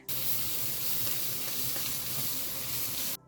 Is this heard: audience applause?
no